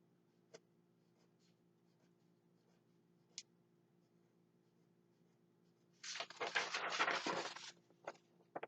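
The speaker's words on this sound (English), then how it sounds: "I'm going to draw some teeth" A marker scribbles quickly on paper while teeth are drawn on a self-portrait, a brief dense burst of scratchy strokes after a long near-silent stretch with a few faint ticks.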